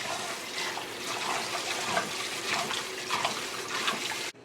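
Water runs steadily from a tap with light splashing and swishing as red lentils are rinsed under it, then cuts off abruptly.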